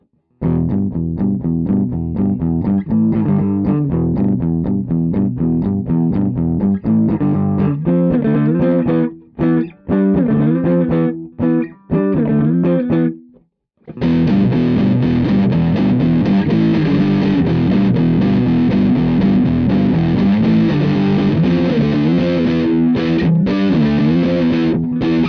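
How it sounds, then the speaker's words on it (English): Electric guitar through a distortion pedal plays a steady, thick riff, heavily distorted, briefly cutting out a few times midway before continuing loud and saturated. "any trace of a clean signal usually disappears once you click on a distortion"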